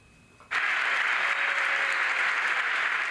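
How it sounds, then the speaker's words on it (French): Sustained applause at the inauguration of Europe's first hydrogen production factory, attended by about 300 people. It bursts in suddenly after a quiet moment and holds as a dense, steady wash of clapping. "Des applaudissements nourris pour cette inauguration un peu spéciale"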